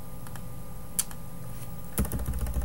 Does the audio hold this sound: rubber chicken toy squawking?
no